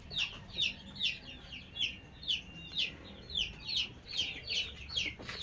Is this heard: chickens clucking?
yes